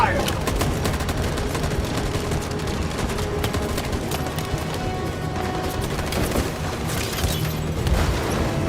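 Sustained volleys of gunfire crackle in the game Detroit: Become Human, dense and continuous with booming shots and dull impacts layered throughout, loud and unbroken for several seconds.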